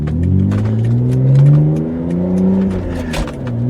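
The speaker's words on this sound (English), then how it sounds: "I'm driving a BMW" A BMW E85 Z4 drives along and accelerates, its engine rising and falling in pitch with gear changes, loud and close from inside the cabin.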